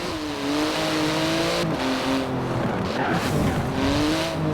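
A 700-horsepower 3.8-litre twin-turbo flat-six in a carbon-fibre supercar in Forza Horizon 4 revs hard and shifts through rising and falling pitches, with brief tyre squeal, loud and close throughout.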